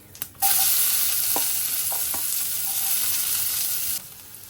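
Panch phoron and chopped onion dropped into hot oil, bursting into a loud, sustained sizzle that holds steady for several seconds with a few spoon taps and scrapes, then cuts off abruptly.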